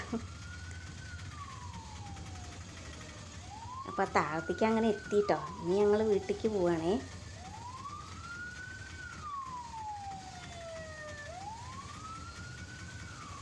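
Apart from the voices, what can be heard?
ambulance siren passing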